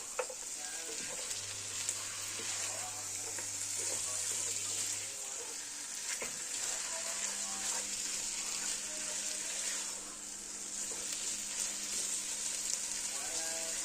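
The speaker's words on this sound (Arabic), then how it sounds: "كده بشوح الفراخ كلها" Chicken pieces searing in a hot pot for a chicken makbous, with a steady, loud sizzle of frying throughout, a brief low hum early on and a faint tone later, no voices.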